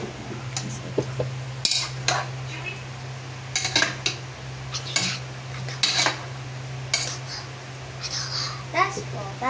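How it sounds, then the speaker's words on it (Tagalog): Chicken adobo stirred in a pot with a metal spoon, repeated clinks and scrapes against the pot over a low steady hum, with a voice talking between strokes. "Tapos po, hahaluin natin."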